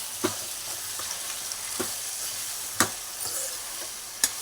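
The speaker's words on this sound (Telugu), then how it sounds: "వేసేసుకున్నాక కాస్త కలుపుకోవాలి బాగా" Drumsticks, cucumbers and tomatoes being stirred into mutton curry, a low sizzle broken by several sharp spoon knocks against the pot, close and fairly quiet.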